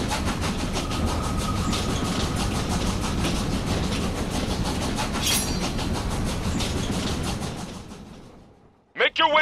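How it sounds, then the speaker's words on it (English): A moving train rumbles and clatters with steady rhythmic clickety-clack in the video game Killer Is Dead, loud and continuous before cutting out near the end, followed by a short burst of other game sounds. "Make your way to the front of the train and kill Tommy"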